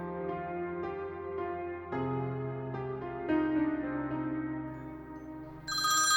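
A telephone ringtone plays alone, a steady electronic melody with shifting tones, rising to a brighter, louder chime near the end.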